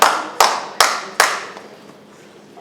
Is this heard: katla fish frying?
no